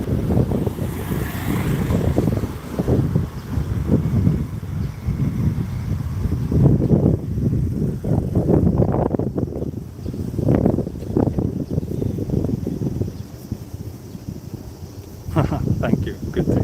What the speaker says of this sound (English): Wind is picking up again